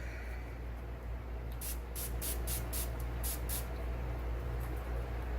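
Seven or eight short spray bursts hiss in quick succession onto a makeup brush over a steady background hum, close by.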